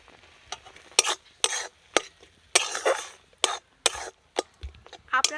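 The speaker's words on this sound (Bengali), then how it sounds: "এবার আমি ভেজে রাখা কাঁকড়া দিয়ে দেব।" Fried crab pieces added to a village-style crab curry in a pan and stirred, a series of sharp utensil scrapes and clatters against the pan at an uneven pace over a faint sizzle.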